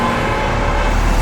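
A car driving at speed on an open road, with loud, continuous engine and tyre roar filling the interior and no one speaking.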